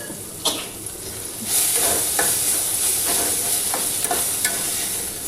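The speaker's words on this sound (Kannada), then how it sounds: "ಚೆನ್ನಾಗಿ ಫ್ರೈ ಆಗಿದೆ ಈಗ ವೆಜಿಟೇಬಲ್ಸ್ ಎಲ್ಲ ನೀಟಾಗಿ." Mixed vegetables for upma sizzle steadily in a hot pan, a close, even frying hiss with a few sharp scrapes and taps of a spatula breaking through it.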